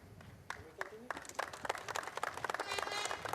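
Spectators at a 2021 truck race at the Hungaroring applaud a podium finisher as he receives his trophy and champagne. Scattered claps begin under a commentator's voice and thicken into fuller, rising applause toward the end.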